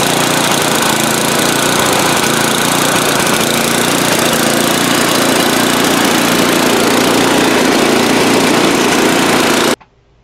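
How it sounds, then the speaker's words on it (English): Snowblower engine with new spark plugs, oil and gas still running roughly after a failed repair, giving a loud, steady, close drone that holds for nearly ten seconds before cutting off abruptly. "it still would just sit there and rev and go, row, row, row"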